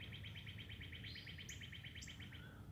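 Small birds sing outdoors in a rapid, even run of high chirps, with a few brighter calls on top and a steady low hum underneath, fairly faint overall.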